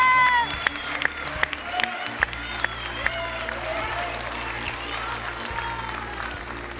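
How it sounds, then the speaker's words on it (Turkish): Applause from a television singing competition audience fills the clip, a steady patter of many hands with a few sharper shouts or whistles rising above it. "Alkışlarla uğurluyoruz yarışmacıları"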